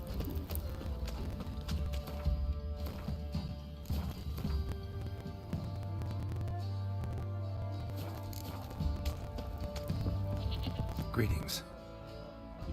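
Horse hooves clip-clopping on ground in The Witcher 3 game, a steady walking rhythm with animal bleats and a whinny nearby, with voices speaking over it.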